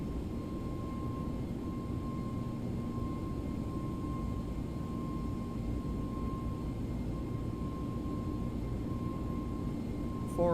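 Steady jet engine roar from a ToLiss A321 NEO airliner on takeoff in X-Plane 11, in gusty wind, a constant broadband rumble with a thin sustained tone over it and no pauses or clear changes in level.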